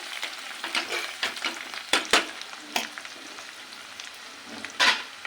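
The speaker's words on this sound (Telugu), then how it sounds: "ఇదిగోండి మన ఉల్లిగడ్డలు అయితే వేగిపోయినాయి" Onions fry in a pan for chennangi leaf curry, with a loud, close sizzle and frequent scraping stirs and clinks as a spoon turns them.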